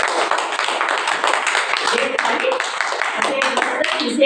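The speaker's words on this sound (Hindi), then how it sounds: "ताली बजा दो।" An audience at a spiritual gathering claps in a dense, continuous patter that holds for several seconds, with voices mixed in beneath it.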